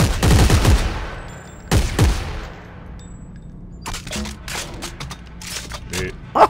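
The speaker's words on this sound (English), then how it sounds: "Oh, it's a single shot rifle." Single-shot rifle fired in the video game Dead Space 3: two loud, sharp reports close together near the start, then quieter mechanical clicks and in-game effects trailing off, with no talking over them.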